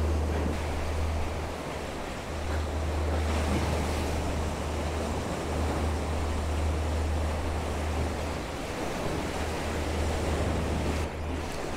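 Ocean surf washes continuously against a moody seashore, a broad steady roar of breaking waves mixed with wind rumble on the microphone, with no voices.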